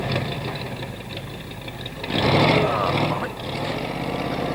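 A boat engine with its propeller caught in fishing nets labors and knocks at close range, swelling into a louder strained burst midway before dropping back to a rough, uneven run.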